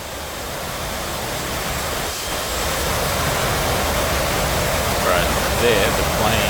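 F18 jet engine in the DCS flight simulator game, a steady broadband roar that holds at even loudness and swells slightly near the end, with faint tonal whine on top.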